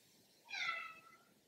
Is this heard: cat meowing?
yes